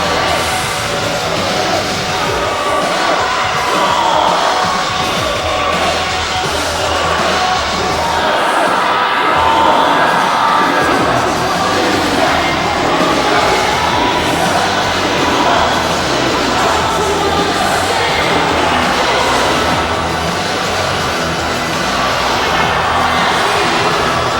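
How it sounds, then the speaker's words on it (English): A capacity arena crowd at a WWE wrestling event roars and cheers without pause, dense and loud throughout, with scattered shouts rising from the mass of voices. "A capacity crowd. The WWE Universe on its feet"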